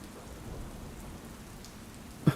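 Heavy storm rain falls in a steady, even hiss throughout, with a brief soft knock near the end.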